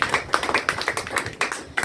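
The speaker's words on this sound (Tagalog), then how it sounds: "Palakpak muli sa ating Panginoon." A church congregation claps together during a Sunday service, a steady run of dense, close applause with brief pauses between bursts.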